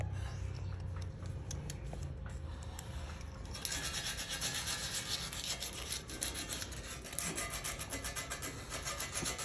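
Steady, coarse scraping of number 100 sandpaper rubbed back and forth on hammered bronze sculpture metal, growing louder and brighter partway through, continuous with no talk.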